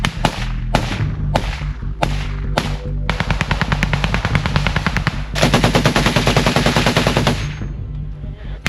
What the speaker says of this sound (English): He reloaded his bullets and fired them all at the Russians.